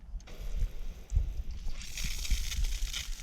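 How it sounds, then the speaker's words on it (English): Water sprays steadily from a homemade 12-volt camping shower, a continuous close hiss and splatter with low sloshing underneath that brightens partway through. "Here's a quick demonstration of how much water comes out in the water pressure."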